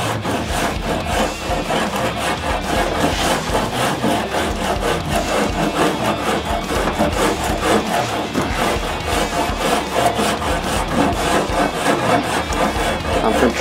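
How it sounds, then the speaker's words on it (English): A Shinto rasp shapes a wooden guitar neck in fast, continuous back-and-forth strokes, producing a loud, close, coarse scraping with an even rhythm throughout. "Watch this Shinto go to work."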